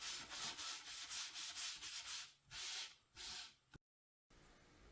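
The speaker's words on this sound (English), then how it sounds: "I'm just going to sand the patch back down to wood or as close to as I can." Sandpaper rubs back and forth over a stained wood patch in regular strokes, a steady rhythmic scratching that pauses briefly before resuming, close and alone.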